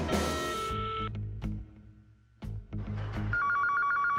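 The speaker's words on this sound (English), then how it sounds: "I got a phone. Let's give him a ring." A cartoon telephone rings in a call, with bursts of electronic ringing and clicks, a short pause, then a steady warbling ring tone, fairly close and without talking.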